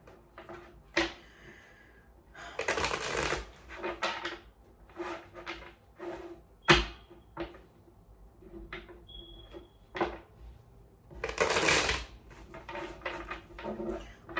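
Playing cards are shuffled in several bursts, quick papery riffles and flutters with soft taps and pauses in between, close by.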